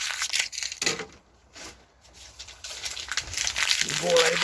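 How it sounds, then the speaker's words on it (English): Material being crumpled by hand to plug a small hole in a charcoal furnace gives crisp, crackling rustles in short bursts, close by, with someone talking over parts of it. "crumple them up like that, and you fill that little hole"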